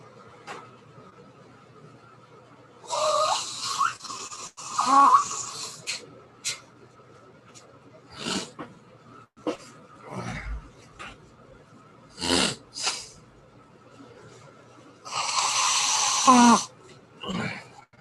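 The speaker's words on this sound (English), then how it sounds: "Blow my nose in the fucking mic" A person blows their nose close to a microphone during a casual talk-show stream, with several loud, breathy, honking bursts spread across the span and quieter mouth and breath noises in between.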